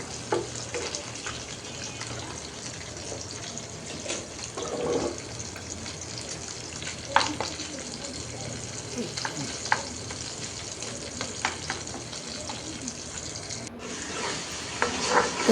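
Tengra fish fries in a pan with a loud, steady hissing sizzle that runs unbroken from start to finish, close up.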